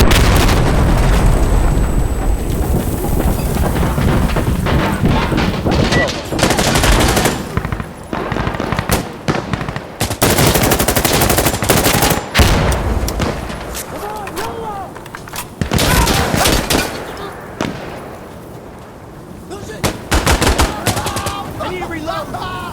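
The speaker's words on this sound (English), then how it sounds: "Clear the explosive, I'm blowing it." Explosive detonation and sustained gunfire in Insurgency Sandstorm, a dense, loud barrage of rapid automatic bursts and booming blasts running almost continuously, with brief gaps and some voices under the combat.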